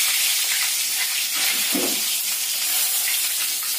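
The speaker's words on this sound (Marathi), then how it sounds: "कढीपत्ता घालणार आहोत तेलामध्ये।" Curry leaves hit hot oil for kande pohe, giving a steady close hiss and sizzle throughout with a brief louder spatter midway.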